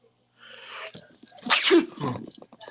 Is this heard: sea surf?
no